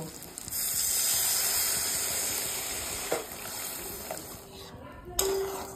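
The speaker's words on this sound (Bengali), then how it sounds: "এখন পাশে গরম জল করে রেখেছি, সেই জলটা পরিমাণ মতো দিয়ে দেব।" Hot water hits frying spice masala for a paneer capsicum curry, giving a loud, steady hissing sizzle that fades a little, with a couple of sharp clanks of the pan near the end.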